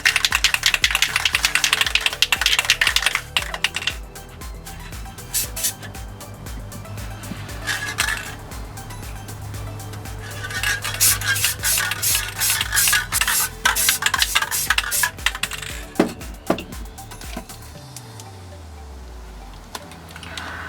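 A can of chrome spray paint shaken vigorously for a scooter build, its mixing ball rattling in rapid repeated bursts, loud and close, with pauses between spells of shaking.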